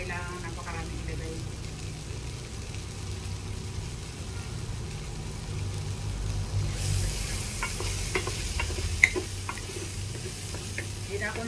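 Sausage frying in its own oil in a pan for spaghetti, a steady soft sizzle with occasional stirring clinks, heard under a low background hum.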